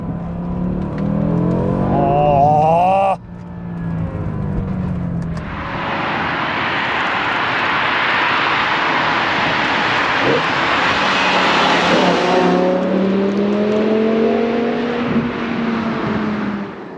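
A BMW M5 E60 with a 5-litre V10 sounds loud and close, first with a short rising rev and then a sustained roaring pull as the car accelerates, the engine note climbing and falling through the gears.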